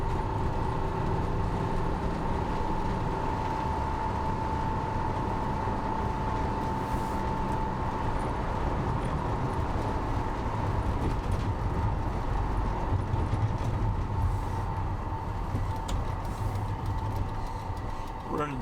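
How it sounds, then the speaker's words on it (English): A 1986 Volkswagen Vanagon Westfalia cruising down a highway, a steady drone of engine, road and wind noise with a faint whine running throughout, heard from inside the cabin with no speech. "Running down the highway here real quick"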